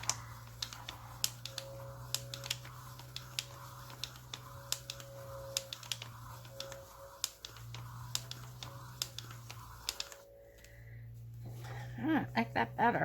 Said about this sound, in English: Hear the cracking of the paper.